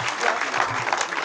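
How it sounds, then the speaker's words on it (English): An audience at a genocide exhibition and education awareness day gives a professor another round of applause, a steady, dense wash of clapping filling the whole moment. "Please, can we have another round of applause for our professor?"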